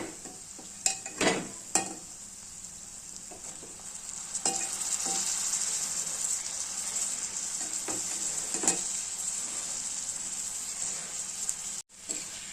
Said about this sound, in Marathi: बघा छान तेल सुटलेलं आहे आता आपण इथे गवार टाकून घेऊया